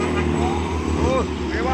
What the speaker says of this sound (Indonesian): kendaraan yang berlewatan di tanjakan Bukit Kodok di pagi hari ini